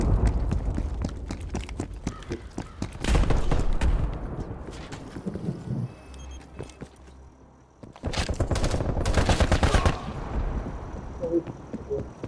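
Bursts of rapid hand cannon gunfire in Call of Duty: Black Ops Cold War crackle in two loud volleys separated by a quieter stretch, with sharp repeated shots.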